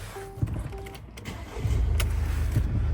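A Mercedes V-Class with a parking brake fault and ABS, ESP and PRE-SAFE warnings starts up. A couple of short electronic chimes come first, then the engine catches and settles into a steady close idle rumble.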